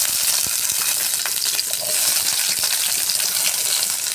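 Large chopped onion pieces fry in hot oil in a pan for an egg-stuffed omelette curry, giving a steady, bright sizzle, close and loud, with no voice over it.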